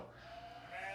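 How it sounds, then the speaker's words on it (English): A single sheep bleats in a steady, wavering cry, fairly faint and brief, with no other sounds around it. "It is a sheep."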